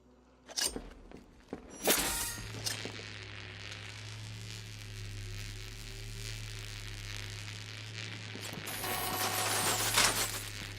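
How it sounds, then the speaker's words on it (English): Counterweight mechanism in Batman: Arkham Knight shifting as pads are stepped on, with clanks and ratcheting clicks at the start, then a steady mechanical hum and rumble that swells again near the end. "Counterweights move further when I step on the pads."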